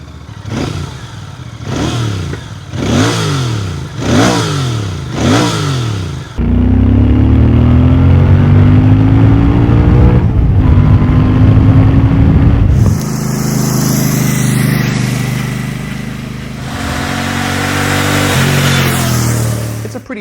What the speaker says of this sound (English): let's listen to the stock exhaust in a few different scenarios.